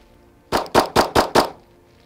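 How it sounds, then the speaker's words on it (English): Five sharp, loud Glock 47 pistol shots fired in quick, even succession at 5 yards, each crack ringing out briefly before the next, then quiet. "Literally the first time I've shot the gun."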